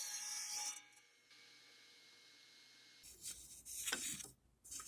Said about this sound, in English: I am cutting the ABS pipe to 25 1/4 inches